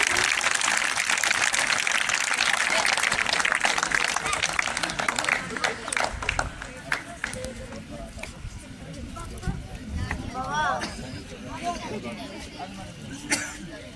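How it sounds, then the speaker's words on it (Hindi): Schoolchildren at a village Constitution Day celebration applaud loudly at first, the dense clapping thinning out after a few seconds into scattered claps, chatter and a voice over the crowd. "जोरदार तालियां बच्चों।"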